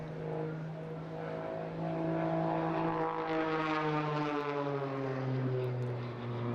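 A propeller-driven aerobatic display aircraft flies its routine at the Eastbourne International Airshow, its engine giving a loud, continuous harmonic drone that swells slightly and holds steady throughout. No voices are heard over it.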